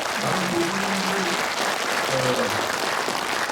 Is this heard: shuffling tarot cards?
no